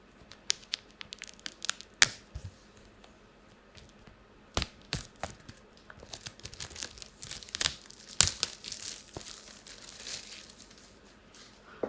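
Plastic packaging being peeled and pulled off an iPad Air 5 box, a close, irregular series of sharp crinkles, rips and snaps with quieter rustling in between.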